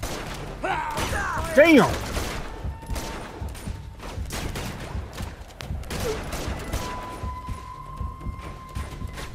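Gunfire in the game Uncharted 2 during a fight with a shotgun-wielding enemy, with bursts of shots and impacts over game noise, while a player talks and exclaims over it.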